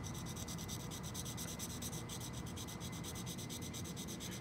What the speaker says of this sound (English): Very lightly sanding the area between the center and the corner.